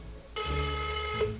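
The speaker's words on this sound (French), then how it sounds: "Ça sonne? C'est une drôle de sonnerie." A ringing tone on an outgoing overseas phone call, heard as a steady harmonic buzz that starts partway through and holds, fairly loud, with no talk over it.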